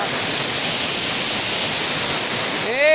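Steady roaring rush of a waterfall with two falls in Duelic, Midsalip, loud and continuous throughout, with a brief whistle-like tone near the end.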